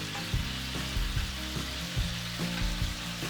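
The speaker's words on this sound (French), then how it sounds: "déposer les tofu farcis et laisser cuire encore environ une bonne minute de chaque côté" Stuffed tofu fries in a pan with oyster sauce, a steady close sizzle and crackle broken by a few soft bumps and stirring sounds, with no voices.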